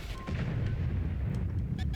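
A gunshot in a video game, a heavy booming report over a dense, rumbling low backdrop, followed by faint clicks.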